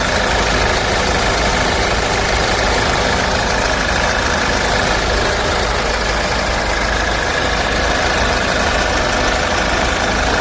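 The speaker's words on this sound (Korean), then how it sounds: "지금 엔진룸 상태 엔진 소리 함께 들어보시죠" Diesel 2.2 engine of a 2010 Kia Grand Carnival with about 170,000 km, idling with the hood open, a loud, steady close-up rumble and clatter that holds an even speed throughout without rising or falling.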